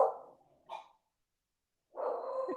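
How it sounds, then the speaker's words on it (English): A dog on alert lets out a few sharp barks close by, in short separate bursts with a quiet pause between them. "I've got a dog who's suddenly going on alert mode here."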